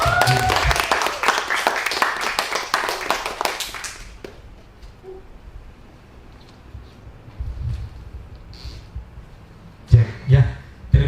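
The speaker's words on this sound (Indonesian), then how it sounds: "Berikan tepukan yang meriah untuk Pak Gun." Audience applause for a speaker at a school teachers' event, a dense burst of many hands clapping that lasts about four seconds and then fades. It gives way to quiet room noise with a few scattered bumps near the end.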